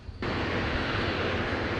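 The Antonov An-225 Mriya, a giant six-engine cargo aircraft built in 1988, produces a loud, dense engine roar that kicks in abruptly and holds steady and close, with no talking.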